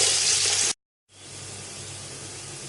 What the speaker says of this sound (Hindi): ऑयल को गर्म करने के बाद इसके अंदर मैं ये प्याज डाल दूंगी और इसको लाइट ब्राउन होने तक फ्राई करूंगी